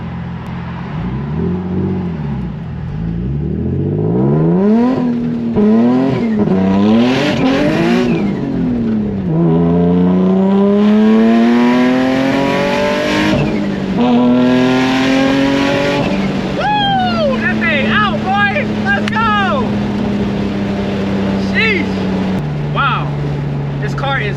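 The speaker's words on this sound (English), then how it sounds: "we are back in the car and we are gonna get a little bit of driving footage" A turbocharged Nissan 350Z Nismo is driven hard from inside the cabin, its engine note climbing and falling through repeated loud revving and gear changes, with sweeping pitch rises and a brief whooshing near the end.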